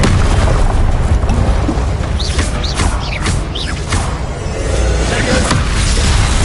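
Confringo blasting spell explosions in Hogwarts Legacy, a continuous barrage of booming bursts and magical whooshes layered over dense combat noise, loud and close.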